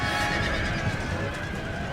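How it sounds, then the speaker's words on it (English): Horses neigh and whinny amid clattering hooves in a large cavalry clash between winged hussars and British lifeguards and horse guards in the video game Empire: Total War, a loud continuous battle din with no talk. "And over here there's a large cavalry engagement between Tguard's winged hussars and the British players lifeguards and horse guards."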